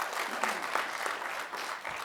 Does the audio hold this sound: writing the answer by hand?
no